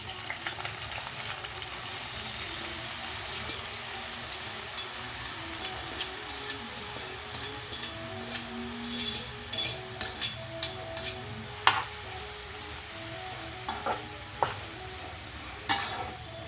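Ridge gourd pieces frying in a tempering of chilli and curry leaves, a soft steady sizzle with a spoon stirring and scraping, the stirring clicks growing sharper and more frequent in the second half.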